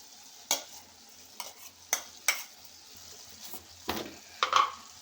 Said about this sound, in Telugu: దీంట్లోకి ఇప్పుడు మిక్సీ చేసుకున్న పచ్చిమిర్చి పేస్ట్ని వేసుకుంటున్నానండి.